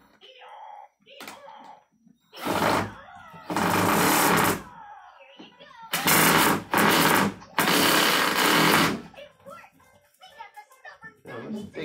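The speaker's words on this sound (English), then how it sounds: "I'm gonna go ahead and drill a hole in here" A power drill boring a hole in a bed frame, running in several loud bursts of a few seconds each with pauses between, while a child and an adult talk in the gaps.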